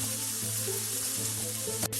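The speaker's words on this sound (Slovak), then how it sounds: "Dáme to tam, nech sa to smaží. A už to syčí" Sausage, smoked meat and onion sizzle while frying in a pan, a steady dense hiss throughout with a brief clatter near the end.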